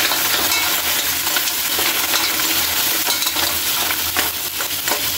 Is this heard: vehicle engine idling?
no